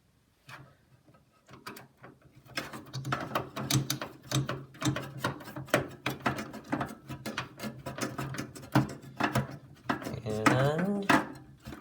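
Screws are driven into the case of an NEC Ready 9905 desktop computer, heard as irregular close clicks, ratcheting ticks and scraping metal that start faint, grow busier and end in a louder grinding burst.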